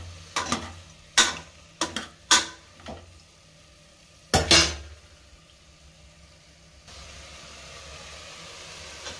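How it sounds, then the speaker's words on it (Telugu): A spoon stirs brinjal and tomato curry in a pan: several sharp scraping strokes in irregular bursts, then a soft steady sizzle of frying underneath, no talk. "వేసుకున్నాక ఒకసారి కలుపుకుందాం"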